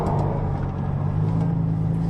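A Nissan GTR car idles and rolls to a gentle stop, a steady low engine rumble with a faint hum continuing evenly throughout, close and moderately loud.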